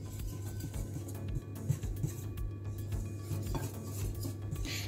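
Dry flour, nutmeg, salt and baking powder get stirred in a bowl, with soft scraping and light clinks of a utensil against the side, quiet and close and repeated irregularly.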